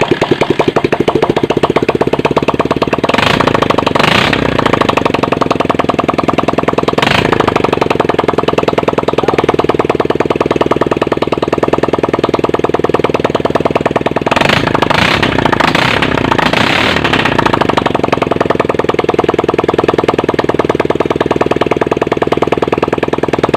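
A Bajaj CT 100 motorcycle engine runs loud and steady at close range, a continuous rattling drone with a few brief louder revving bursts; the bike is in poor condition, putting out heavy smoke.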